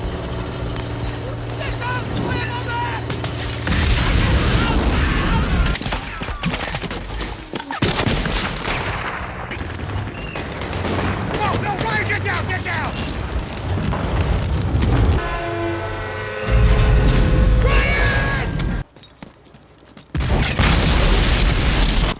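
Heavy booms and bursts of gunfire roll through a dense World War II battle din with German troops firing, loud and continuous, with brief drops between volleys.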